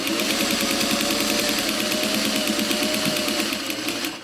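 A sewing machine runs steadily, stitching in the ditch along a quilt's flange binding. The stitching is a fast, continuous mechanical whir with a close, even rhythm and no voices.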